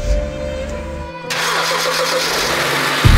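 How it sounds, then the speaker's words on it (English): A BMW car engine cranks and catches, the starter whirring briefly before the engine fires into a loud, steady idle close by, with no talking. "and I start the car."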